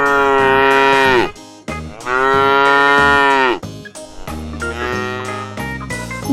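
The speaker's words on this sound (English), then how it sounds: "This is a cow" A cow moos three times in a row, long loud bellowing calls close by, the last one shorter and breaking off, with a faint jingle of a bell between them.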